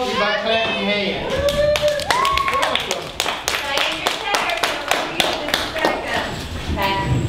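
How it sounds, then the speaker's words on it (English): A group of children clap their hands to welcome someone in a Smokey Bear costume, a dense burst of close, steady clapping mixed with a few raised voices and chatter. "Y'all welcome Smokey by clapping your hands."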